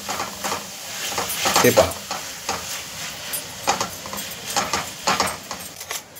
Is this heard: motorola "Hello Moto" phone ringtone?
no